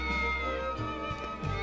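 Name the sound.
cat meowing in the video game Triangle Strategy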